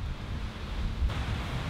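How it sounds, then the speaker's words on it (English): Steady gusty wind buffeting the microphone, a low continuous roar throughout with no voices. "It's really windy."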